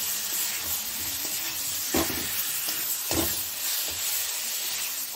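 Small whole potatoes go into a frying egg curry for egg bahar, giving a continuous loud hiss and sizzle with a few dull knocks of the spoon against the pan.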